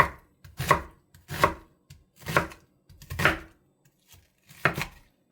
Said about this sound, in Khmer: យើងចាប់ផ្ដើមហាន់ខ្ទឹមបារាំងរបស់យើង